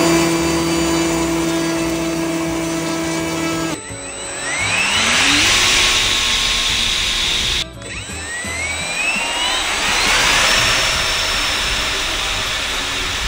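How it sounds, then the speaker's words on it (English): An RC plane propeller spins up on its motor in a thrust test, a loud steady whine and rush of air with rising tones, cutting out briefly twice and spooling back up each time, comparing toroidal and regular propellers. "the 5-bladed propeller was 6 decibels quieter than the regular propeller"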